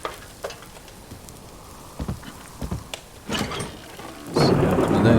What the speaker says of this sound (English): Gosh, that thunder's loud.